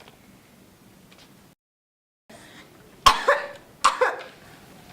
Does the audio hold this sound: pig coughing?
yes